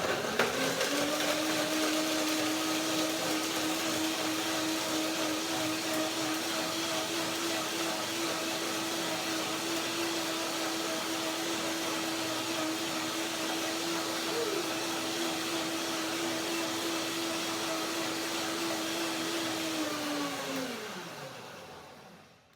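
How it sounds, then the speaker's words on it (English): A blender whirs steadily at high speed for about twenty seconds, breaking down Brazil nuts, then winds down and stops. "Just to start, I make a first blending, breaking down the nuts, so now they can soak a little bit."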